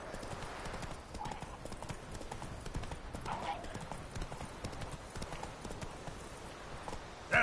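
Roach, the horse in The Witcher 3, trots with a brisk, steady clip-clop of hooves throughout, while faint voices murmur underneath.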